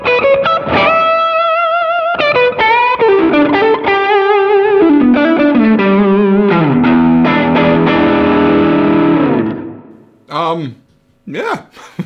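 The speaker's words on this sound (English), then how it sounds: "Like this for a tube screamer. So this is gain at max." Overdriven electric guitar through a PedalPawn BluesPrint on its tube screamer side with gain at max, playing a loud sliding, bending lead line that ends in a few short stabs.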